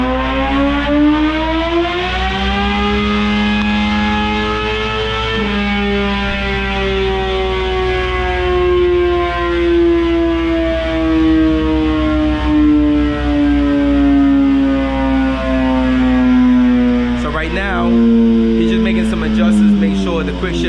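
A 2012 Suzuki GSX-R750 with a Dynojet quickshifter revs on a dyno and climbs through the gears. The rising engine whine is loud and close, with a quick shift break near the end.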